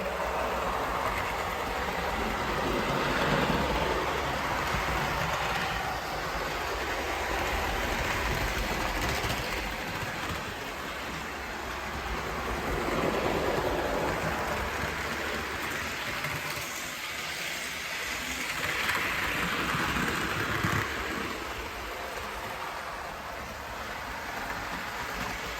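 A model train locomotive runs a faster lap of a layout, a steady rolling rumble with a faint clickety-clack that swells and fades as it circles past.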